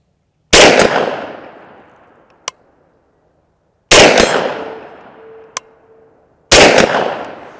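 Three loud, close reports from a small .410 shotgun, each sharp blast trailing off in a short decaying echo, with a faint clink after the first two shots and no talking.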